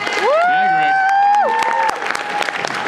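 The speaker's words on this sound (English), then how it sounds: "Just one quick round of applause for Greg and the staff." A convention crowd applauds at the Holiday Matsuri closing ceremony. A loud, high, sustained whoop or whistle-like cheer rises over the clapping, which then continues as looser, scattered claps.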